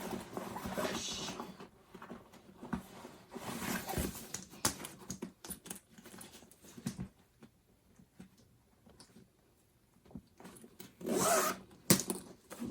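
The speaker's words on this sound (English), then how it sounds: "It zips up nicely." A zipper closes on a handmade fabric bag with handles and D-ring connectors, heard as scattered short rasping pulls and fabric rustles, close and fairly quiet, with a louder burst of zipping near the end and no talking.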